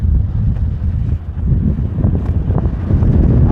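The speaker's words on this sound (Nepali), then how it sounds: "शीतल त शीतल भइरहेको छ हावा आएर" Cool wind gusts steadily across the microphone at an aircraft maintenance area of Hong Kong International Airport, a loud, continuous low rumble and buffeting with no voices.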